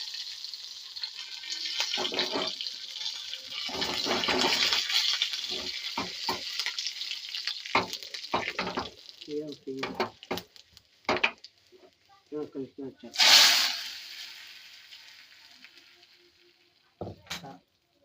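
Dried red chilies and curry leaves dropped into hot oil for a South Indian rasam, giving bursts of crackling sizzle and spattering, with stirring and a few quieter gaps between.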